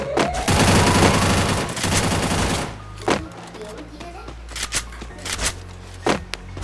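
Rapid gunfire bursts from the video game Free Fire, loud and dense for the first few seconds, then sporadic single shots and short volleys follow with quieter gaps between them.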